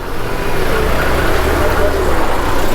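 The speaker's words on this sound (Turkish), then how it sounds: "Arabalar var ya zar zor geçti ya." Cars squeeze slowly past on a narrow street in Yazd, giving a continuous, close, loud engine and road rumble with no clear break.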